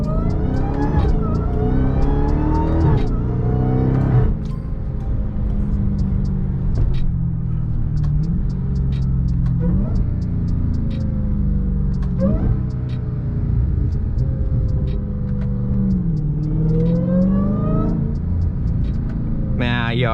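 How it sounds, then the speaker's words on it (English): A supercharged Dodge Hellcat engine revs repeatedly, its pitch climbing and falling in a series of throttle blips with a steady supercharger whine under it, loud and close. "I can't get enough of that supercharger"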